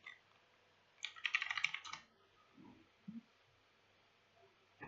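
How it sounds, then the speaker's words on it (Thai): A short burst of quiet, close keystrokes clicks rapidly on a computer keyboard for about a second, followed by faint soft thumps in an otherwise quiet room. "หาไม่เจอนะครับผมก็พิมพ์มาเลย"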